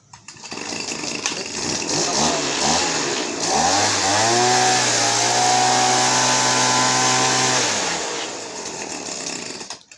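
A small two-stroke engine on a used Japanese Hitachi leaf blower revs up and holds a steady, loud drone close by, then cuts back down toward the end.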